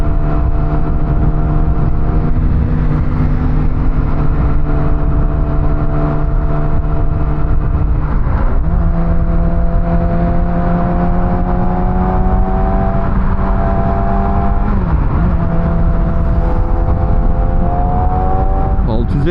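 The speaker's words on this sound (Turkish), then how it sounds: "motorun egzozu stok, orijinal ama çok fazla bağırıyor" A 2020 Yamaha R6 motorcycle with a loud stock exhaust drones steadily while riding. Its engine pitch climbs through the gears, with shifts near eight and fifteen seconds, against constant wind roar.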